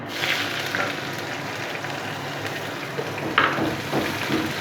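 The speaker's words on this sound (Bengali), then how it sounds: "তো পেঁয়াজ আর কাঁচা লঙ্কা আমি ভালো করে ভেজে নেবো।" Chopped onion and green chili sizzling in a pan after a curry-leaf tempering, a steady close hiss of frying with a few brief stirring scrapes.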